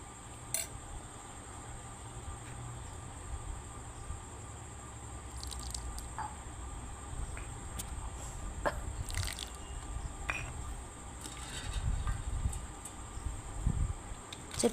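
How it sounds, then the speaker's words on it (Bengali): Wet squishing and faint dripping sounds as chaat is mashed and mixed by hand with chanachur, black salt, chaat masala and tamarind sauce, soft and close with irregular pulses over a low background hum. "চটকিয়ে ভালো করে মেখে নেব।"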